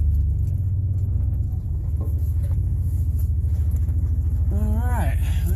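A Chevy rumbles and strains off-road while its wheels spin on rough, bumpy ground, a loud steady low engine drone filling the whole stretch, with a brief voice-like sweep near the end.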